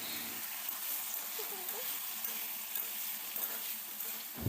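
Chopped vegetables for mustard flower sukto sizzling in a pan after black mustard seed tempering, a steady close frying hiss with light spatula stirring under it.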